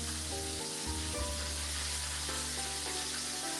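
Chicken frying in oil in a pan gives a loud, steady sizzle with dense crackling throughout, close up and with no voices.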